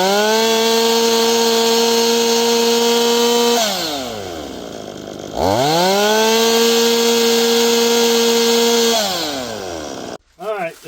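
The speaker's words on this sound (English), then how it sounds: "let's just mill some of it off of there." A Holzfforma G260 chainsaw engine revs high and steady, drops to idle, then climbs back to a sustained high rev while milling metal off a rubbing clutch part, loud and close, cutting off abruptly at the end.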